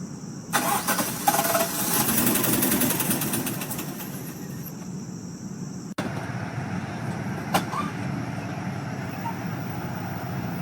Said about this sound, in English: Is this how my Power Stroke's supposed to sound like?